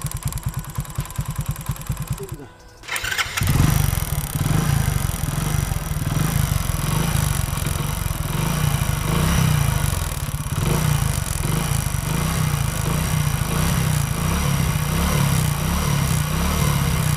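A motorcycle is started from its self-starter with a short crank and dip, then the engine runs loudly and close, with a steady chugging idle and rattly mechanical clatter throughout; no talk.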